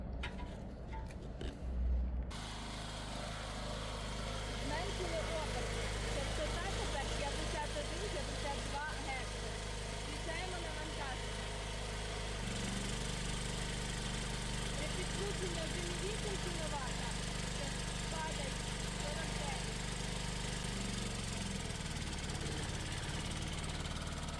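A gas-powered generator engine runs steadily close by, its idle note shifting lower partway through as the revs are brought down toward 50 Hz, after a brief burst of handling noise at the start.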